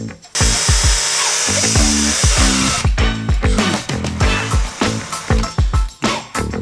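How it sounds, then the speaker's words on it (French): A power drill bores into the hard casing of a President McKinley CB radio set, a loud whining drone with repeated pulsing bursts and grinding as the bit bites, continuing throughout. "C'est très difficile à percer."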